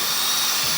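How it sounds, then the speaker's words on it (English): A power drill whirs briefly at close range, a short steady buzz of a motor spinning, driving a screw into Gyprock plasterboard wall. "Get our screw good to go on the drill"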